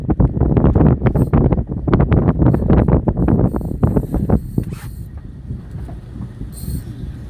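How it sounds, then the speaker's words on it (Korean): Strong wind buffets a fishing boat at sea off Yeosu during autumn hairtail lure fishing, loud gusty roaring and thumping against the microphone for several seconds before easing into a lower, steadier rush. "자, 바람 소리 많이 들리나요?"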